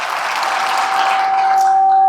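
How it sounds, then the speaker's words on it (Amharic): An audience applauds at an evening celebration. The clapping is a dense, steady patter for about two seconds, with no voices over it. "ወደ ቀጣዩ ሰርፕራይዝ ስጦታ እስቲ ለሀበሻ ጭብጨባ"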